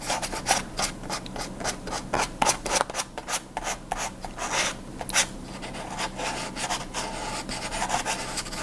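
Hand sanding of a wooden guitar kit body, a steady close scratchy rubbing in uneven back-and-forth strokes, light and gentle, with no talking.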